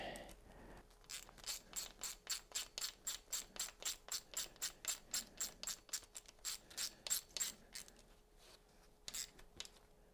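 Hand ratchet clicking steadily while threading in a 10 mm oil pan tensioner bolt on an ALH engine, about two dozen quick, close, even clicks in a continuous rhythm with a few slower strokes at the end.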